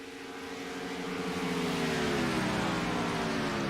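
Race cars roaring past on a Friday night Las Vegas track, a loud sustained engine drone that swells as the cars close in and pass, with no voices heard.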